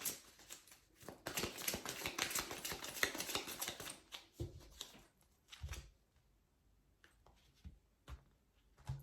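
A deck of oracle cards being cut and shuffled by hand: a dense flurry of close, soft riffling for about four seconds, then a few scattered flicks and taps, quiet with no talking.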